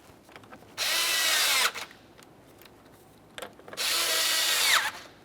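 A power drill or impact tool snugs harmonic balancer bolts on a 2001-2005 Ford Explorer Sport Trac in two loud, steady bursts of about a second each, with a quiet pause between them.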